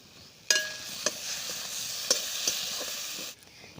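Prawn paste stirred and fried with spices in a pan gives a soft, steady sizzle, with a few sharp scraping clinks from the spoon at close range and no talking.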